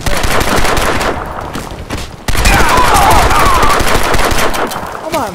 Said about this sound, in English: I'm still walking around shooting